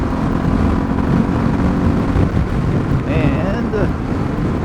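A Suzuki DR650 motorcycle cruising in fourth gear on a highway, its engine a steady loud drone buried in heavy wind rush for the whole stretch, with a faint voice rising briefly near the end.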